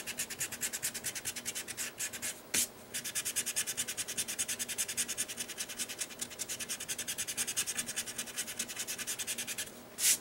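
Acrylic paint worked into canvas with a brush in earthy fall colours, a steady close scratchy rubbing that continues alone throughout with brief louder strokes.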